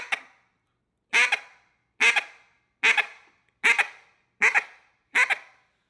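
Sharp, clipped quacks on a duck call, six bursts in a steady bouncing hen cadence, each cut off hard with a brief tick at the end, loud and close with no voices.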